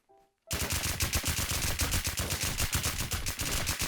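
Gunfire from a video game gun, a rapid automatic burst of closely spaced loud shots starting abruptly after a brief quiet moment and continuing steadily to the end.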